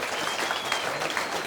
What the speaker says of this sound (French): Jenny, on peut applaudir Jenny s'il vous plaît.